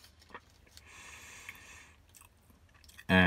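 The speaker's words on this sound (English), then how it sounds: "I love the eggs in here. Chewing on one right now." Close, soft chewing of a Jack in the Box meat lover's burrito with fluffy, moist eggs, quiet mouth noises ending in a sudden louder rustle or bump.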